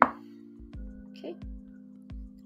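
Knife chopping an onion on a cutting board during a home meal prep session, a few sharp evenly spaced thuds over a steady low hum.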